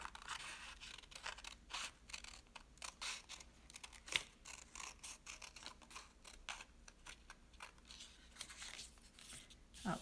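Scissors cutting paper for a warm and cool weaving craft, a faint close-up series of crisp snips and rustling paper sounds in an irregular rhythm, quiet and without talking.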